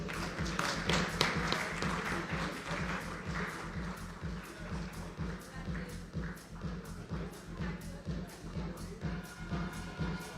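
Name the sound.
audience applause for award winners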